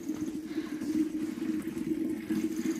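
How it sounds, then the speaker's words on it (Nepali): Water runs from a tap into a metal gagri water pot in a Nepali village, a steady low gurgling fill with a constant trickling hiss, close by and moderately quiet, with no talk. "काठमाडौँमा यसरी गाग्रीमा पानी भरेको खास देखिँदैन"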